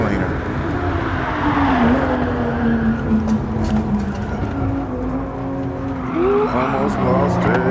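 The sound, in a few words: Toyota Supra engine shifting gears, VR racing video game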